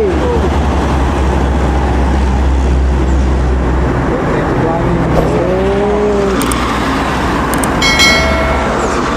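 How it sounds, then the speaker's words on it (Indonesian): A tank truck hauling bulk asphalt passes on the road with a loud, steady engine and tyre roar close by. Voices talk over it, and brief tonal honks come near the end. "Kali ini truk tangki pengertian."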